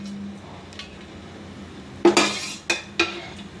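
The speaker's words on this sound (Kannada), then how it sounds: "ಇವಾಗ ಬಾಣಲಿ ಇಡೋಣ ನಾವು" A cooking pan set down on a stove in a home kitchen: a few sharp metallic clanks and clinks against a quiet background, one louder knock followed by two lighter taps.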